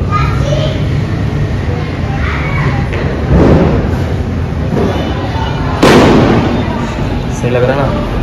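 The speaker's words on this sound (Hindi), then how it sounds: "बम पटाखे भी बजने स्टार्ट हो लिए" Diwali firecrackers pop and thump amid a busy outdoor street scene, with children's voices and chatter underneath; two sharper bursts stand out partway through.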